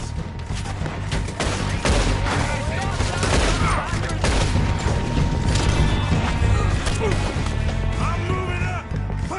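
A gunfight in the video game Red Dead Redemption 2, with dense overlapping gunshots, mechanical clatter and a busy game score running the whole time, loud and steady, while voices shout now and then.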